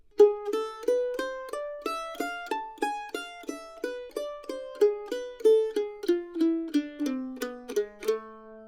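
A plucked mandolin plays a quick single-note lick in A harmonic minor, roughly twenty crisp picked notes in an even rhythm that winds downward and settles on a final held note, close and clear with no talking.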